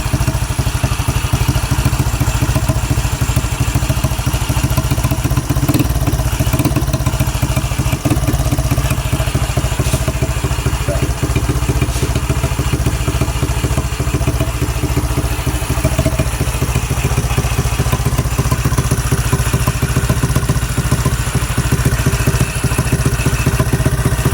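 A Yamaha Mio Sporty scooter engine, fitted with a 4-pin CDI, idles steadily for the whole stretch, a loud, close, even putter with a faint mechanical clatter and no voices.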